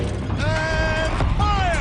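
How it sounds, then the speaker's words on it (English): A Horizon Zero Dawn turret mechanism rotates, giving a short creaking, whining mechanical sweep with rising tonal squeals, loud and close, under a voice. "Rotate turret!"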